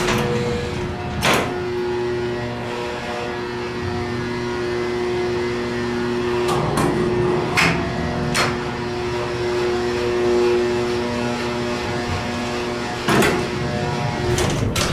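A Salem traction winding drum freight elevator with CJ Anderson components rides upward. Its motor holds a steady droning hum with a tonal whine, broken by a few sharp clunks and rattles, with no talking.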